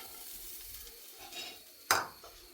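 Coconut and curry leaves roasting in a pan for mutton curry give a soft dry rustle of stirring, with one sharp scrape of a spatula against the pan near the end.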